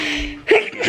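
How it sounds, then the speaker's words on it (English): One short, sharp sneeze bursts out close up in a home setting, brief and loud against a steady hair-dryer hum. "Oh, sneezing."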